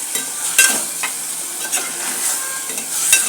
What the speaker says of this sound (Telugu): ఈరోజు బీన్స్ చికెన్ ముక్కలు వేసి